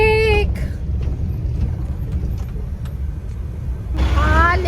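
Road traffic in Mumbai rumbles loudly and steadily with passing engines, and a vehicle horn honks with a rising wail at the start and again near the end.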